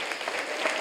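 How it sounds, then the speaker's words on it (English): Audience at a 2022 Juneteenth celebration breaking into applause, a dense, steady wash of clapping hands filling the short moment, close and fairly loud with no distinct voices. "we need to give a round of applause for that"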